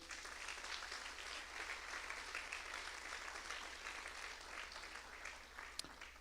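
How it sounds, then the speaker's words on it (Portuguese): A church congregation applauds during a Rosh Hashanah service, a steady, fairly faint wash of clapping that holds evenly throughout with one sharp knock near the end. "Aplauda o Senhor por isso."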